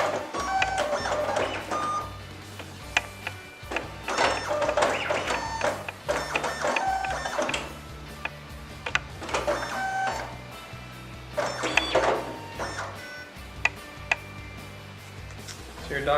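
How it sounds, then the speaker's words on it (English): A Fastback 20 binding machine runs as it binds a stack of paper with a strip, giving a steady mechanical whir with repeated clicks and clatters, louder surges every few seconds over a constant low motor hum. "So now I'll insert the strip into the machine and you can see how everything gets bound."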